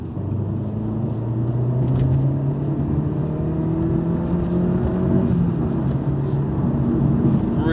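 Turbocharged 1.6-litre petrol front-wheel-drive hot hatch with 202 horsepower accelerating, a steady engine drone heard from inside that rises in pitch through the gear, loud and continuous with no talk.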